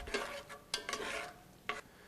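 Onion and garlic being stirred in a pot, with a few distinct spoon scrapes and clatters over a faint sizzle, close and fairly quiet.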